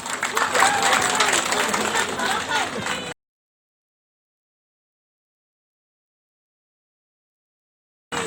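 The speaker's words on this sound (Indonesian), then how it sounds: "Tepuk tangan untuk Pak Bupati." Applause for a regent at an outdoor village campaign rally, a crowd clapping loudly and densely with some background noise, breaking off abruptly into silence before a brief burst returns.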